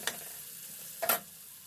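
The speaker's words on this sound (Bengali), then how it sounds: "এক থেকে দেড় মিনিট ধরে আমি মশলাটাকে কষে নিচ্ছি" A spice masala cooking down in hot oil for a radish and prawn ghonto hisses steadily up close, with two sharp scraping stirs about a second apart.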